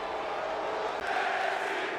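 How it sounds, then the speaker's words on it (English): A wrestling arena crowd in WWE 2K23 chants NXT, a steady loud roar of many voices filling the whole stretch without pause. "The crowd are obviously excited for this, chanting NXT."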